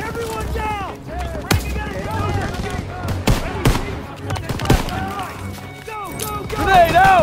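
Machine gun fire during a World War II battle around a barn in Call of Duty WW2, scattered loud bursts and sharp shots mixed with shouting voices and busy battle noise throughout.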